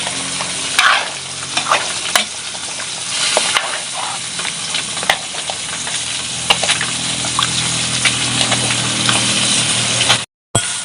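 Fish curry masala of garlic paste and spices frying without oil in a pot over a wood-fired stove, a loud continuous sizzle with repeated spatula scrapes and knocks close up, no talking, and a brief dropout near the end.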